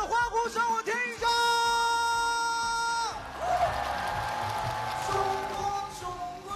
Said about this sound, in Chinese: 现场的朋友五秒钟的欢呼声我听一下